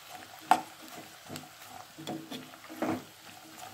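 Garlic and bitter gourd pieces sauté in oil in a pan for a mixed vegetable pickle, with a soft steady sizzle and occasional stirring scrapes and clacks, fairly quiet and close.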